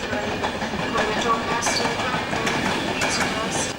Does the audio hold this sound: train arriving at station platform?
yes